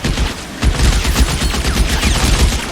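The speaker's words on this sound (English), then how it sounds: "Oh man, so many bullets." Dense, rapid gunfire from the video game L.A. Noire, a loud continuous barrage of overlapping shots and bursts that fills the clip with no pauses.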